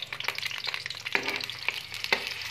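Food sizzles and fries in desi ghee for moong dal, a soft, steady crackle with occasional stirring clinks of a utensil against the pan.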